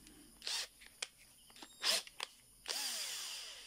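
A Titanium Power cordless electric drill gives several short, sharp whirring bursts with pauses between them, then ends on one longer run, all fairly quiet and close.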